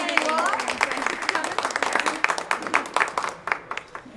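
Outdoor summer concert crowd applauds, a dense steady clapping that fills the whole stretch and stays fairly close and loud.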